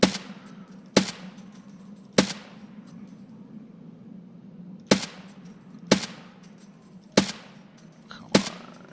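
Gunfire in the video game Escape From Tarkov, loaded with BT ammo: six sharp single shots at irregular intervals, loud and close, each trailing off into a short echo, with no voice.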